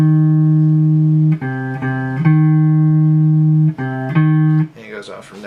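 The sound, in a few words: minor third interval played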